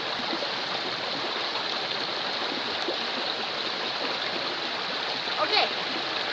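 Water runs steadily into a hiking water filter bottle, a continuous near rushing stream with a brief splashy burst toward the end.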